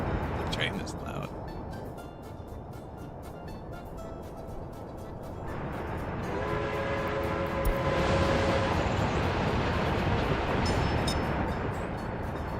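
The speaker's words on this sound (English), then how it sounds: "The train is loud." A train running in a video game with a 1900 start rumbles loudly and steadily, building toward a heavier roar with tonal whine partway through, while a voice talks over it.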